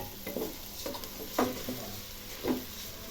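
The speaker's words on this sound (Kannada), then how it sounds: "ಮತ್ತೀಗ ಅಕ್ಕಿ ಹಾಕೋದು." Delhi rice tipped into a pan of sizzling beans, carrots and pulses for masala rice, a quiet sizzle broken by a few soft scraping stirs and grain rustles, nearby and without speech.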